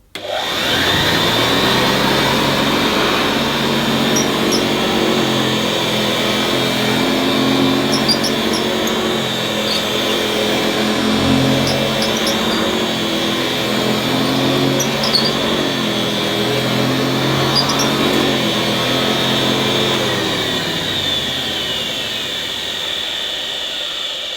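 A vintage Hoover 725 vacuum cleaner, at least 93 years old, runs with a loud, steady whirring drone and a high whine. It starts abruptly and holds constant throughout with no talking.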